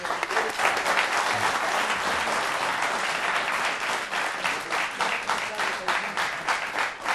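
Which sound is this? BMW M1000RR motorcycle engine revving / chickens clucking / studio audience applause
studio audience applause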